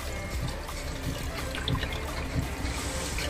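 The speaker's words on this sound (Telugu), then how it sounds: "కొన్ని నీళ్ళు పోస్తున్నా మరీ ఎక్కువ పోయకుండా" Water is poured steadily into an aquarium built onto a Royal Enfield motorcycle, producing a close, continuous splashing gush with no talk.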